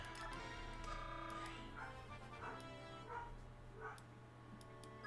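A pet dog barks and whimpers faintly in the background behind steady game music and room hum, with several short yips spaced a second or so apart.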